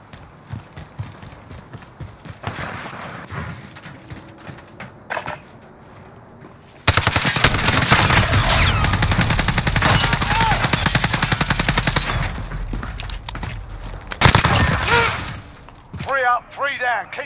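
Rapid machine gun fire starts after several seconds of quieter, scattered noise and lasts about seven seconds as a dense, continuous burst. Shorter bursts follow, along with voices.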